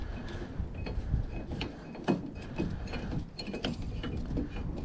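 A driver bit snugs a screw on a Ford F150 tail light, giving soft clicking and ratcheting mechanical sounds up close, fairly quiet and irregular, with no voices.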